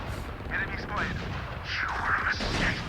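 Gunfire in the Valorant shooter game: sharp shots and bursts crackle amid game effects, with a voice speaking over the action.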